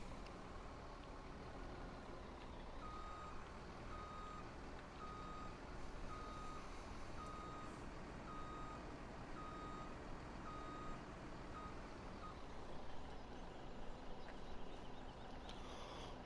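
A logging truck maneuvers, its reversing alarm beeping in a steady repeated rhythm over a continuous low diesel engine rumble, close and fairly loud throughout.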